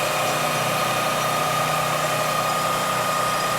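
Manual lathe making a facing cut on a machined part, a loud steady hum of the running machine with a constant tonal whine throughout, no talking.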